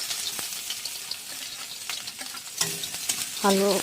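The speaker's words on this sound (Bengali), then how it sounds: "পেঁয়াজ কুচিটা দিয়ে দিলাম।" Chopped onion hits hot oil in a wok, giving a soft, steady sizzle with occasional stirring scrapes, faint and close, ending in a brief louder burst.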